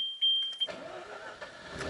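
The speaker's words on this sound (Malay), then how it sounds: "Saya nak cuba start kereta ni." A rotary-engine car cranks once and catches, with a short starter burst giving way to a steady engine idle and a thin high warning beep at the start.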